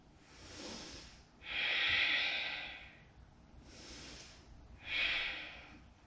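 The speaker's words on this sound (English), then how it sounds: "Breathing deeply." Slow, deep breaths during a yoga flow, two long audible exhales after softer inhales, close and quiet with no speech.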